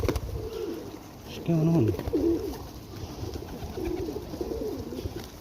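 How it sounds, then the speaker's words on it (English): Pigeons feeding on seeds coo in low, throaty bursts close by, with soft scuffling and fluttering around them, while someone talks briefly over the birds. "Hungry pigeons pecking seeds."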